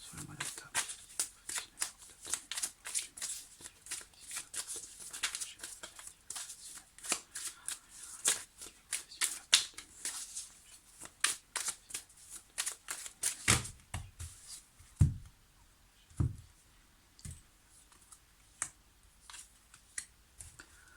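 Tarot cards are shuffled close by, a dense run of crisp riffling and slapping for about thirteen seconds that then slows into scattered soft taps and card flicks.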